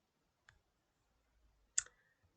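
Two quiet, sharp clicks of a computer mouse, a faint one and then a louder one about a second later, with near silence around them.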